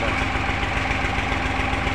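A tractor engine, newly fitted during repairs, runs at a steady idle, a close, continuous low rumble with a faint knocking vibration and no talk over it.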